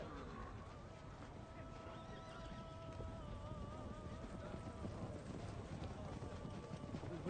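Horses move outdoors in a desert setting, with soft drumming hooves and drawn-out whinnying calls over wind noise, faint and somewhat distant, with background voices.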